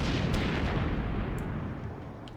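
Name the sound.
naval gunfire in video game World of Warships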